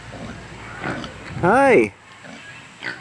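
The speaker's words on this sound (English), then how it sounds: "Got these pigs here." Pigs at a small zoo in Rising Sun, Maryland, give a single loud rising-and-falling squealing grunt, close by, with a person speaking softly just before it.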